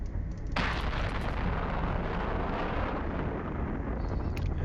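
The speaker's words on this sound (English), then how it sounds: "And start shooting" Weapons fire in the space game Eve Online during a hisec combat site with a Loki ship, a loud dense rumbling barrage that bursts in after a half-second and roars on steadily with no gaps.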